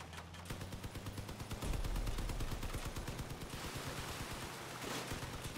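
Rapid automatic gunfire from vehicle weapons in the game Crossout during a raid, a dense continuous stream of shots with heavy low rumble and no talk over it.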